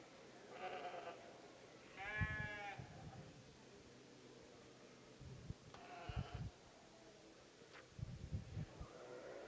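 Ewes and lambs bleat at a breeding sheep show at the National Western Stock Show, with several wavering calls from the ring rising over a low arena murmur and background hum.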